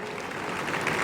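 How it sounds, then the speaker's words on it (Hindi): Audience at a Hindu community mahapanchayat rally applauding to welcome a speaker, a dense, steady wash of clapping that swells slightly toward the end of a short burst. "जोरदार तालियों से स्वागत करिए।"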